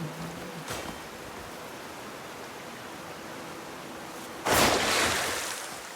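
Broad, steady rush of a waterfall in the video game Crimson Desert, a continuous wash of falling water that swells louder near the end as if moving closer, with no voices.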